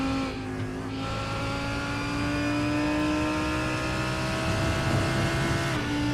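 A GT3 race car in a sim racing game rounds the long carousel bend at Road America, its engine holding a steady, close drone with small throttle blips and no one talking.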